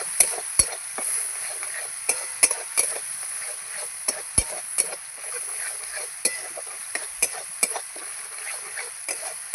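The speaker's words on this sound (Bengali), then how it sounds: "এই যে গোবিন্দভোগ চালটা এটা দিয়ে দেবো ভালো করে চালের সঙ্গে মশলাটা কষাবো" Gobindobhog rice is stir-fried with spices in a pan. A faint background sizzle carries sharp, irregular clicks and scrapes of a spoon against the pan, and no one speaks.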